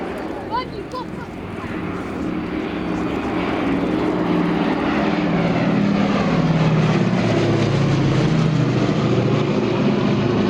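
A B-25 Mitchell propeller bomber flies an airshow display at Shoreham, its piston engines droning in a broad, building roar that swells and holds loud toward the end.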